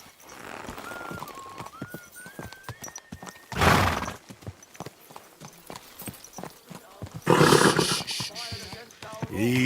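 A horse in a video game whinnies loudly, with hooves clip-clopping in a steady rhythm and voices talking over it.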